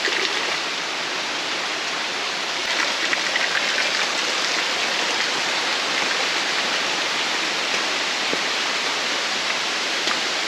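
Mountain spring water flows beside a Himalayan trekking trail on the Rudranath route, a steady, close, hissing rush that carries on evenly from start to finish with no voices.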